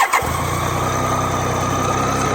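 BMW K75 RT motorcycle engine cranking and catching, then settling into a steady, close idle with no talk.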